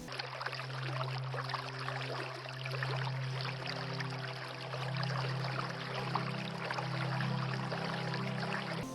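Water overflowing from a stone pond and running down at a hill fort: a steady, broad rush and trickle, constant throughout, with a low droning hum beneath.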